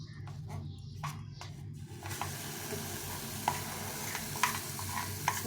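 Batter frying on low heat in a pan with very little oil: a faint, soft sizzle with a few light clicks and utensil taps, quiet and close.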